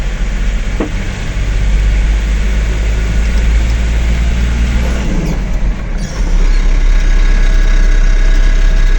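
A car engine labours at low revs while the vehicle crawls behind a lorry, giving a loud, continuous droning rumble with a slight shaking rattle from the vibration, and no talking over it.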